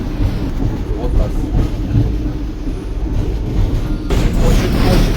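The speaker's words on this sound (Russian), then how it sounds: "Трамвай." Hong Kong double-decker tram riding along, a steady loud low rumble of wheels and motor with rail clatter throughout, with people talking over it.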